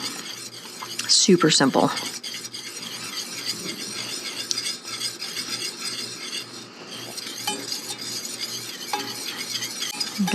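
A spoon stirs cheese sauce into cooked noodles for a summer squash rice casserole, a soft wet churning and scraping that continues steadily, close, with a brief voice speaking early on.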